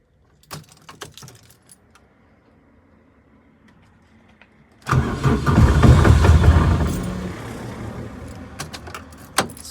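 A 1st-generation Vauxhall Cavalier with a C20XE two-litre engine sits quiet at first amid a few clicks and jangles, then cranks and starts, running loud and rough with an uneven, lumpy idle.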